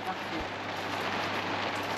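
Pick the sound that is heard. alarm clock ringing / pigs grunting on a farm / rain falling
rain falling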